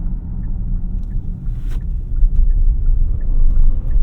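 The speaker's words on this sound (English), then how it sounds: "Put it in sport mode here. Just throw it into this corner." Inside a 2024 Hyundai Palisade Calligraphy AWD in sport mode, hard cornering brings a low, rumbling engine and road drone. It swells louder over the few seconds, with faint clicks and a brief rustle, and no voices.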